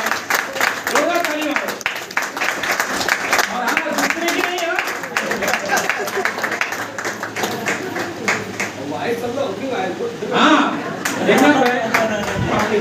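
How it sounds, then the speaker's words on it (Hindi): An audience at a basic training program session claps steadily and loudly, a dense patter of hands running throughout while someone talks over it. "क्या जोरदार ताली"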